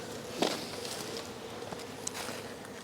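A steady buzzing hum of many honeybees from a Caucasian colony surrounds an open hive during a winter inspection, close and continuous with a few faint knocks and rustles.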